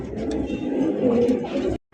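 Large Sirazi pigeons cooing softly and continuously nearby, a low rolling murmur that stops abruptly at the end.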